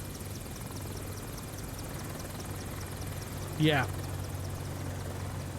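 AH-64 Apache helicopter in Microsoft Flight Simulator 2024, a steady low rotor and turbine drone with a faint high whine, idling evenly under a brief rising chirp; a voice speaks one short word.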